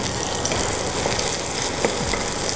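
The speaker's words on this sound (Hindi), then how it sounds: "इस घी में हम डाल देंगे ये हरी मिर्च और कड़ी पत्ता।" Green chillies and curry leaves frying in ghee, giving a steady, close crackling sizzle that runs without a break, with no talk over it.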